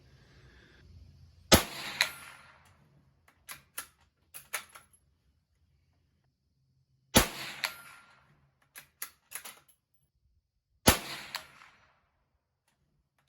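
A Savage Model 93 .22WMR rifle fires Winchester ammunition outdoors: three sharp, loud, isolated cracks spaced several seconds apart, each with a short ringing tail, with faint handling clicks and rustles in between.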